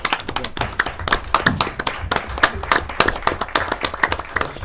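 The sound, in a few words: applause at a board meeting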